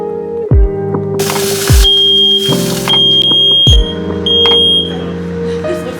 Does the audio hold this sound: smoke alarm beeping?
yes